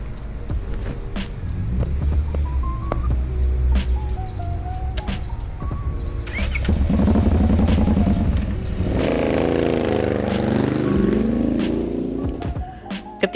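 A custom show motorcycle with a side-mounted exhaust rumbles nearby and revs up as it is ridden, with engine pitch rising and falling over steady wind and road noise.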